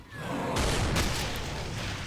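Shotgun blasts and explosions in a Doom II mod level, with dense, loud booming gunfire that rumbles continuously with a sharper burst near the middle.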